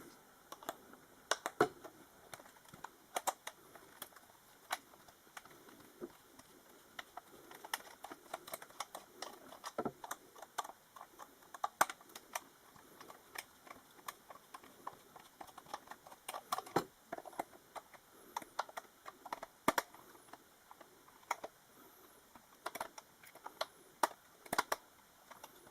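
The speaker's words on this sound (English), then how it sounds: "undoing these screws is always the time-consuming part of any mod" Small screws are worked loose during an HC-Elite kit fitment, a long run of faint, scattered clicks and light ticking taps, close and quiet, irregular in rhythm with no talking.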